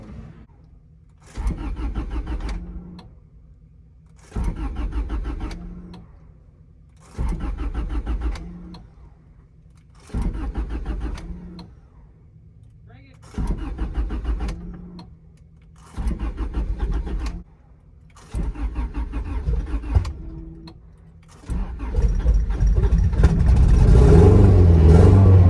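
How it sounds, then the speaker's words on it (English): A boosted Honda Del Sol running on E85 cranks over in seven separate bursts of about two seconds each, with short pauses between them. The engine then catches and fires into a loud, rough, steady idle that continues to the end. "So you probably need to crank it"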